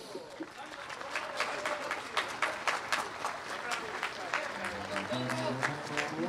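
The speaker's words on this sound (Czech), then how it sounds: "Prosím, pojďme jim všichni zatleskat." A crowd at a rally in Zlín claps steadily and fairly distantly, with voices talking over the applause toward the end.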